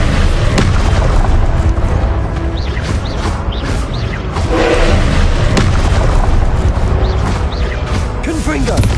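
Confringo blasting spells burst again and again in Hogwarts Legacy combat, a string of loud, punchy booms and crackling impacts over dense battle noise, with a voice casting spells throughout.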